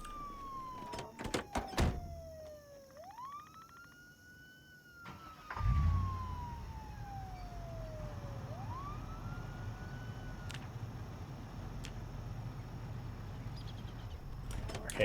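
In a zombie video game, a wailing siren sweeps slowly down and then jumps back up in long repeating cycles, accompanied by clanking door-like thuds and a low rumble that swells partway through.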